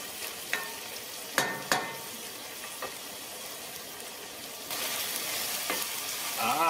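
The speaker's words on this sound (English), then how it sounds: "You have to make sure that you stir it quite often, otherwise the onions would get burned." Onions sizzling in a pan under a continuous, close frying hiss, with several sharp scrapes and knocks as they are stirred, and the sizzle swelling louder toward the end.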